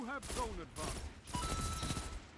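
Pulse rifle gunfire in a video game: a quick burst of rapid shots, close and loud, with a voice talking over it.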